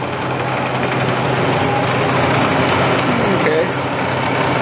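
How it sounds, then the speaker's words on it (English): Bridgeport Series I vertical milling machine with a 2HP variable-speed spindle running steadily, a continuous mechanical hum with faint whine that rises slightly as the spindle is sped up, close and constant throughout. "he's running the spindle now."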